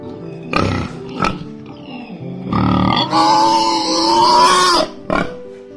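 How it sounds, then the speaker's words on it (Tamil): A domestic pig gives several short, loud grunts close up, followed by a longer, drawn-out grunting call and one final grunt. It is heard alone, without talk. "பன்றி ஒரு விளையாட்டுத்தனமான மற்றும் புத்திசாலி பிராணி."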